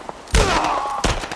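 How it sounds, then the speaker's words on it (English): Gunfire in The Last of Us video game: a sharp loud shot rings out with a ringing tail, followed by a second burst about a second later, close and punchy. "Where the fuck are you shooting me from?"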